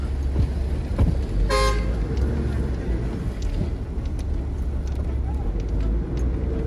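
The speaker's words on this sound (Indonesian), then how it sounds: "Ini macet tuh." A car horn gives one short, loud honk amid the steady engine rumble of a traffic jam on an overland road trip. Voices can be heard in the vehicle.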